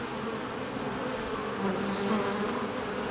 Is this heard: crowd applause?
no